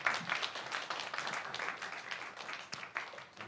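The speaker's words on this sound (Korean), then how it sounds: "우리 그 주님께 또 보내신 하나님께 감사의 박수하겠습니다" Church congregation clapping in thanks after a Christmas sermon, a steady patter of many hands through the whole stretch at moderate level, with no voices over it.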